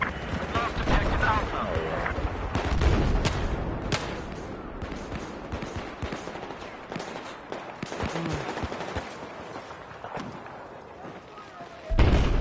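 Scorpion Evo submachine gun fire in Battlefield 4, with bursts of sharp shots and distant battlefield gunfire crackling throughout, while someone talks over the action.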